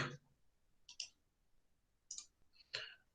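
A computer keyboard is typed on briefly: a few faint, sparse clicks of keys pressed in short separate groups, with near silence between them.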